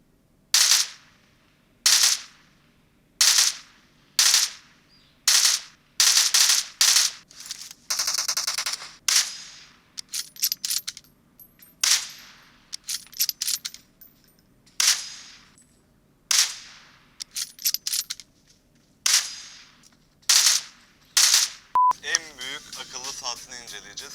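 Assault rifle gunfire in PUBG training mode, heard as loud, sharp shots in single bursts and quick rapid strings, spaced irregularly over the whole stretch, with a faint electronic chirp near the end.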